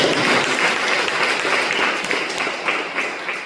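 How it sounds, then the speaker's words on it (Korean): A congregation at a church worship service breaks into steady, even applause, a broad wash of clapping that holds for a few seconds and slowly thins. "크게 다시 한번 박수 한번 드립니다"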